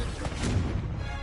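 A short, muffled blast from a Confringo spell in a Harry Potter video game, a single soft boom that fades quickly.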